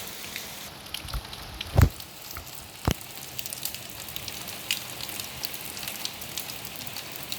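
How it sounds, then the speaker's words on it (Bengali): A light drizzle falls outside a balcony beside a mango tree, a faint, steady patter with a couple of louder drip knocks and no talking. "দেখুন কি সুন্দর বৃষ্টি নামতেছে"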